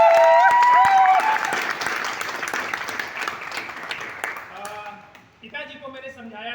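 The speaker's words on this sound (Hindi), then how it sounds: "मैं चाहूँगा मेरे पेरेंट्स के लिए बार जोरदार ताली होनी चाहिए" An audience claps loudly in sustained applause that fades over several seconds, with faint voices and a tonal sound emerging near the end.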